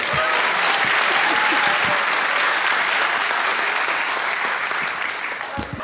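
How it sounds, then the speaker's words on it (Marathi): A stand-up comedy audience applauds loudly and steadily, a dense wash of clapping that thins slightly toward the end. "एकदा टाळ्या वाजायच्या."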